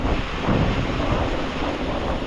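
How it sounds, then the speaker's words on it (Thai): Wind buffets the microphone in a constant roar, with a rushing wash like heavy rain or water underneath. "ทั้งฝนทั้งลม"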